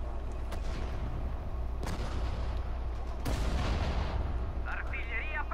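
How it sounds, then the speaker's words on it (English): Artillery fire in a video game battle between Italian and French armies with tanks and infantry: sharp, heavy booms land about two seconds apart over a constant low roar of combat noise. "There's artillery back here."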